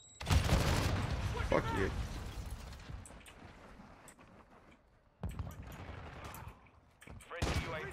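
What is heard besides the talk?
grenade and gunfire in video game Modern Warfare 2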